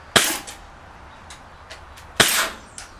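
Two sharp shots from a KWC Colt M1911 A1 CO2 blowback airsoft pistol, each a crisp pop with a short clattering tail, spaced about two seconds apart, with a few faint clicks between them and no talking.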